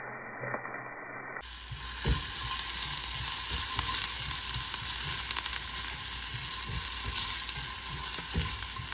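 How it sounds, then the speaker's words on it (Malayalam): Grated coconut frying in ghee for Kerala-style unniyappam, a continuous close sizzle with scraping and clicking stir strokes throughout, rising slightly in intensity after the first second or so. "തേങ്ങ ഇങ്ങനെ നെയ്യിൽ വറുക്കുമ്പോൾ"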